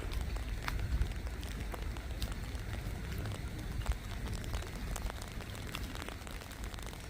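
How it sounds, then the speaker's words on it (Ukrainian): Steady rain patters and hisses outdoors in Victory Park, with scattered louder drops striking nearby surfaces and a low rumbling background; no one speaks. "Дощ, звичайно, йде, він такий немаленький"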